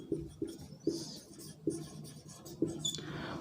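A pen or marker writes on a board during a physics lesson on units and measurements: a faint run of short strokes and taps, about five distinct marks spaced under a second apart, near and alone in a quiet room.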